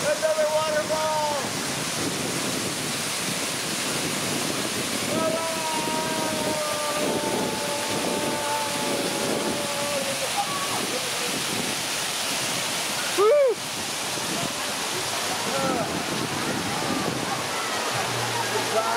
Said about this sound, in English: There's another waterfall coming up.